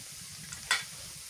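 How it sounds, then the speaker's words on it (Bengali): Fried onions in a pan while a fish curry is cooked, giving a soft steady sizzle with one sharp scrape or clatter midway, close by. "পেঁয়াজ ভাজা হয়ে গেছে"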